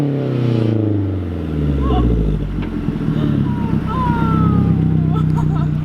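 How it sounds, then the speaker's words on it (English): A sleeper car's engine revs hard and bounces off the rev limiter, a loud sustained roar with stuttering pulses, recorded up close with voices faintly in the background. "this thing sounds insane off rev limiter"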